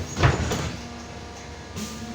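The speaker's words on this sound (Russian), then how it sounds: "Осторожно, двери зачиняются" Doors of a BKM-321 trolleybus in Minsk close at the central bus station terminus: a sharp thump near the start, then a low mechanical hum and a softer knock toward the end, with no talk.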